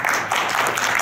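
A brief burst of crowd applause at a trade summit, dense and fairly loud clapping filling the moment.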